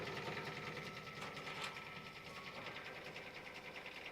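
A sewing machine stitches quilting along a 60-degree table runner, its needle running in a steady, rapid mechanical whir that holds at an even level from start to finish with no pauses.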